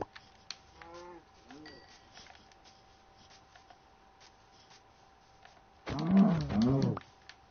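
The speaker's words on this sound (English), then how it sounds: "Oh, more cow." Cows mooing in the video game Minecraft, a couple of faint lowing calls early on, then a louder, longer moo near the end over a quiet background.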